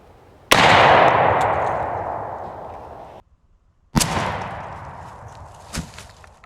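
Shotgun blast from a Retay firing Longbeard XR number 6 shot for a pattern test outdoors, heard as two loud, sharp reports separated by a brief silence, each trailing off in a long echo.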